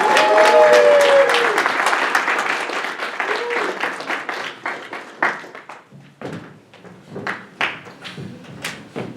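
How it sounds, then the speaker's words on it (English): Applause for a Republican congressional nominee at a 2018 victory event, dense clapping with cheers that thins into scattered individual claps as it dies away. "let's give a round of applause for our Congressional Republican nominee"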